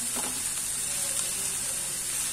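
Potatoes and fenugreek leaves cooking in a pan, a steady close crackling sizzle that runs briefly and evenly with no other sounds.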